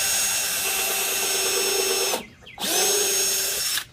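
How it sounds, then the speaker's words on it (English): A power drill whines steadily as it bores a pilot hole into wood for a flower box, stops briefly, then spins up again for another burst. "For the last corner now, we're drilling our pilot hole."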